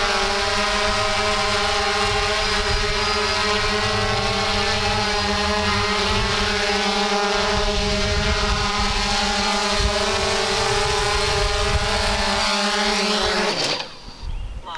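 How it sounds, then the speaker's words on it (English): An Ehang Ghost Drone 2.0 quadcopter lands on its own with a loud, steady, buzzing propeller whine. The sound holds for most of the clip, then drops away and changes abruptly near the end. "Now that the ghost drone is home, I can just click land. And it's going to land by itself."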